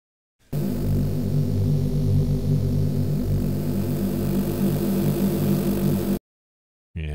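A detuned Reese bass patch from the Kilohearts Phase Plant synth, thickened with unison detune and pitched down, drones as a dense, steadily throbbing tone for about six seconds on its own, then cuts off.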